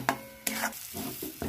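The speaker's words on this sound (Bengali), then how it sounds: "এবার নাড়তে নাড়তে জলটা শুকনো করে একটা ডো তৈরি করে নেব।" Semolina and water being stirred in a pan into a dough, heard as soft scraping and rubbing strokes with short bursts of sizzle, close and quiet, with no voices.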